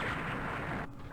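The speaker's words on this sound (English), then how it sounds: "Let's bring in our artillery." Artillery fire in a Vietnam War strategy game set at the Battle of Hue rumbles as a brief, muffled, distant boom with a low, dull roll that cuts off quickly.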